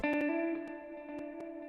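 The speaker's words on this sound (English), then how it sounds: "a background guitar with a lot of reverb on it" A sustained, shimmering guitar chord rings with heavy reverb, washing out smoothly while sharp percussive ticks land at a steady pulse.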